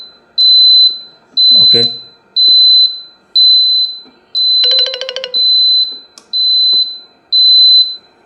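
Repeated high electronic warning beeps from an induction cooker with its spool not fitted, sounding in a steady regular series of about eight long tones, loud and close, with brief speech and a clatter partway through.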